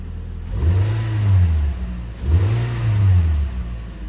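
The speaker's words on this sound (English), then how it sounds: "Give it a little rev." A 2009–2010 Toyota Corolla engine revs twice after a catalytic converter exhaust replacement, each rise and fall smooth and rounded, from a steady idle that carries on between them. It sounds close and loud.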